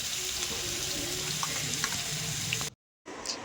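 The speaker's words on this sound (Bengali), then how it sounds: "সর্ষের তেলটা গরম হয়ে গেলে এতে দিয়ে দেবো বেটে রাখা পেঁয়াজ" Ground onion paste frying in hot mustard oil for a Mughlai paratha curry, a steady broad sizzle with faint clinks, running without talk until it cuts out briefly near the end.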